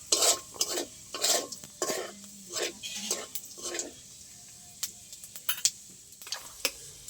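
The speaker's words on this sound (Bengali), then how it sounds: "তেলের মধ্যে দিয়ে দেবো গোটা গরম মশলা আর জিরে ফোড়ন, একটু ভালো করে ভেজে নেব।" Whole garam masala and cumin seeds fry in hot oil in a pan, with a soft sizzle beneath repeated scraping stirs of a spoon, close by.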